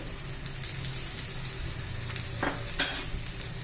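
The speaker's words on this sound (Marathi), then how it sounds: "खरपूस असं खमंग थालीपीठ आपण आता भाजून घेणार आहोत" Jowar flour thalipeeth roasting in oil on a pan gives a steady, close sizzle with a faint crackle. One brief louder flare rises near the end.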